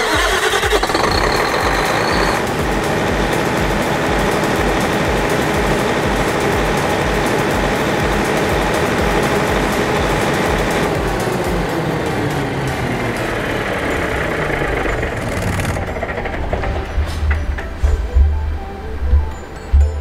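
A 415-volt generator engine cranks, catches and settles into a loud, steady running drone that fills the whole stretch, with the pitch shifting slightly partway through and some knocks and handling noises near the end.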